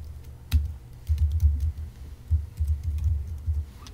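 Close, soft keystrokes on a computer keyboard tap out a chmod command at the Unix shell, an irregular run of clicks in short bursts with small gaps.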